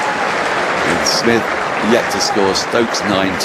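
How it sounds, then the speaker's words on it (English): Crowd applause ringing around the Adelaide Oval cricket ground during an Ashes Test as a wicket falls, a broad steady wash under a commentator's close voice. "Applause rings out the Adelaide Oval."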